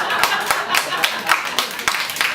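Scattered claps from a comedy club audience, several sharp hand strikes spread irregularly over a couple of seconds amid room noise, fairly close and moderately loud.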